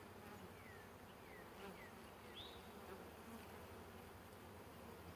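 Steady, dense buzzing of honey bees inside a hive fills the whole clip, a mass humming, with a few faint chirps above.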